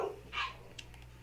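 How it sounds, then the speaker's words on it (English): Dogs playing, with a single short bark or yip followed by a couple of faint distant yaps, quiet and brief. "the dogs are raising Cain, playing"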